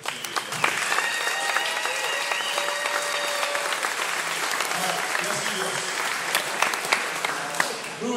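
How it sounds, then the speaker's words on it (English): Audience at a Rides4Alz charity event for Alzheimer's claps loudly and steadily. The dense applause, with a few whistles and cheers, fills the whole stretch. "So join me in a big round of applause for Alzheimer."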